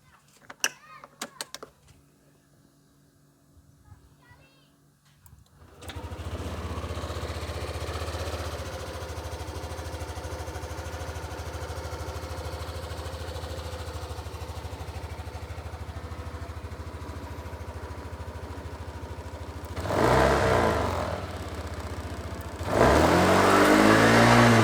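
A Yamaha Aerox 155 Connected scooter running on Federal Racing Matic oil is quiet with a few clicks at first, then starts and idles with a steady hum, followed by two short revs toward the end.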